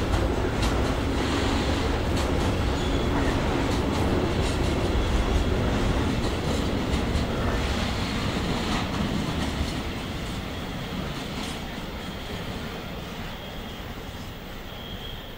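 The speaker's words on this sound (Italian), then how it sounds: "un luogo dove gli alberi dialogano con i binari di smistamento della ferrovia" Trains moving through a railway shunting yard at the edge of woods, a loud continuous rumble with rhythmic clatter of wheels over track joints and metallic squeals, easing slightly in the second half.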